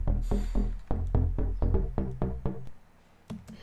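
A synth bass shot from a square-wave wavetable in FL Studio, punching out a loud sequence of deep, thumping bass notes in a driving rhythm before trailing off, with no voices.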